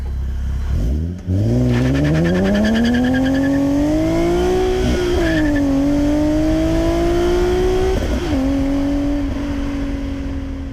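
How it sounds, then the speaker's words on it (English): A car with an epoxy-filled differential bushing pulls away gently on a road test, its engine note rising smoothly through mild acceleration, close and loud with a brief gear change and no talking. "First up is a gentle start with mild acceleration."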